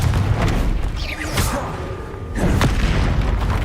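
A Confringo explosive spell cast in Hogwarts Legacy, loud booming blasts with whooshing streaks, one at the start and another about two seconds later, over a rumbling battle din.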